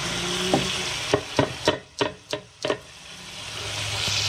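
Chicken and onions sizzle in a pan while a utensil scrapes and clacks against it about seven times in a quick, uneven rhythm.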